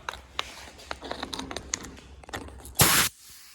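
An aerosol cleaner is sprayed on spark plugs in one short, loud, hissing burst. Light clicks and scratches of handling come before it.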